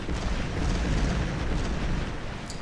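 Deep rumbling artillery fire from the strategy video game Empires of Steel, a loud sustained boom that rolls on for a couple of seconds with no talking over it.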